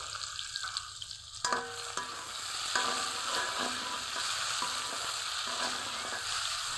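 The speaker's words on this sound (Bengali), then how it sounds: "তেলের মধ্যে দিয়ে দিব পেঁয়াজ কুচি টমেটো কুচি পাঁচ মতো লবণ দিয়ে খুব ভালো করে কষিয়ে নিব" Close, continuous sizzling of chopped onion and tomato frying in oil with salt, with rhythmic scraping and knocking of a spoon stirring in the pan.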